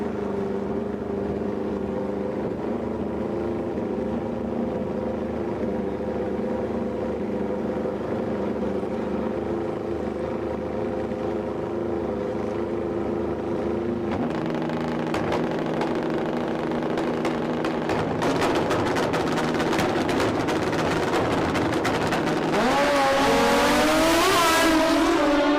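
Drag-racing motorcycles at a Hooked on Speed event roar with sustained engine drone, then a louder surge of revving and acceleration builds toward the end, heard from a distance.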